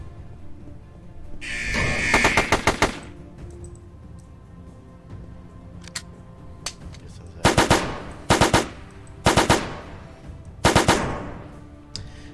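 Bursts of automatic gunfire in a Unity third-person shooter game, with recoil: a long rapid volley early, then several short loud bursts spaced a second or two apart, no talking.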